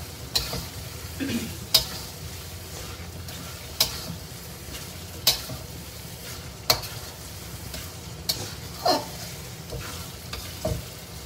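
Cow liver sizzles steadily in a pan, with a spatula scraping and clacking against the metal every second or two as the pieces are stirred, close up and without talk.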